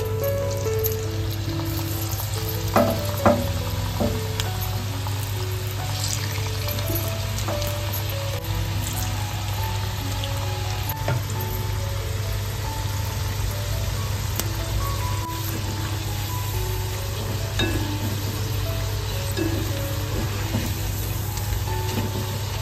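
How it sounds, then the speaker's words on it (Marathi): Onion bhaji deep-frying in hot oil, a dense continuous sizzling crackle with scattered pops and faint clinks, close and steady throughout with no talk, with a constant low hum beneath. "तर बघता आपल्याला अशा प्रकारे हलकेसे ब्राऊन कलर येईपर्यंत ते व्यवस्थित फ्राय करायचे."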